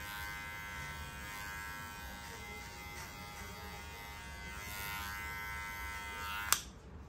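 Electric hair clipper fitted with a 1.75 guard runs steadily while cutting hair for a square bob, a continuous close buzz throughout with a brief sharp click near the end.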